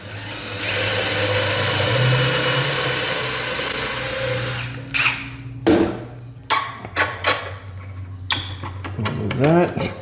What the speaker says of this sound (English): I'm going to drill that hole.